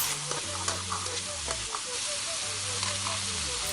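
Vegetables are stirred in a hot frying pan while making vegan pizza, with a close, steady sizzle and hiss under repeated scraping and clinking strokes of the spoon against the pan.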